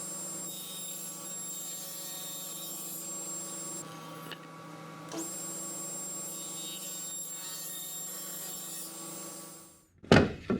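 A table saw rips the edges of cedar boards at a 45-degree bevel, giving a steady whirring cut that holds at a constant level for about ten seconds before a brief louder clatter at the end.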